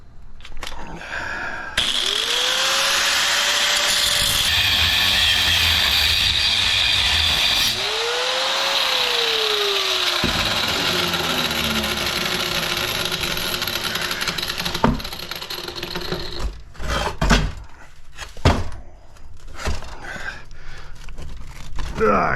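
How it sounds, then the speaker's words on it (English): A power tool cuts through a large InSinkErator garbage disposal to free the copper stator, running loud and steady with rising and falling whines for about fifteen seconds, then breaking into scattered clanks and scraping as scrap steel comes loose. "now we gotta cut this and get that stator out of there"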